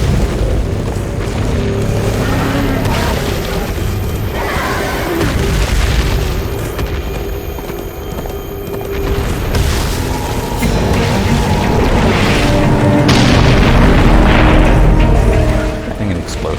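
Explosion in the video game Darksiders II: a loud, sustained rumbling boom rolls on through the whole stretch, swelling and fading with dense low roar, with a voice talking over it at times.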